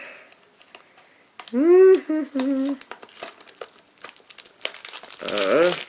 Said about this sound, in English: If I could get this fucking box open.